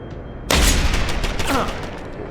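Small arms gunfire in the game Deus Ex: Human Revolution erupts as a sudden loud volley of close shots that rolls on over a busy game background.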